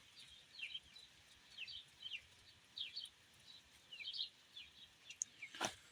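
Pigeons in a breeding loft give soft repeated coos and murmurs in short bursts, faint and spread through a quiet room, with one sharper brief flutter or scrape near the end.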